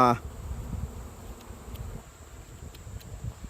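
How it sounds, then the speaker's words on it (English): Honey bees buzz during a hive inspection, a soft continuous low hum after a brief louder noise at the start, staying faint and steady throughout. "We've got a bee right here with pollen on it."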